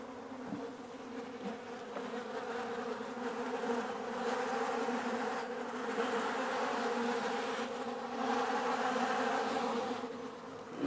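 Honey bees buzz around their original old hive box, a dense continuous swarm drone that swells and fades slightly, close and moderately loud, with no talking.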